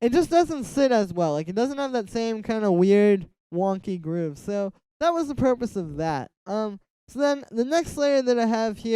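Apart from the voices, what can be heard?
No distinct noise like a dog, phone or traffic.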